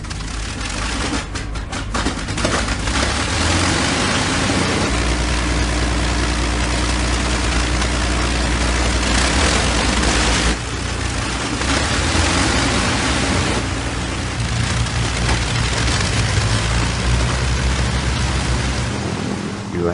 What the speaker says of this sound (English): but once you have them synchronized, they just purred. Music to the ears. The sound of four Merlins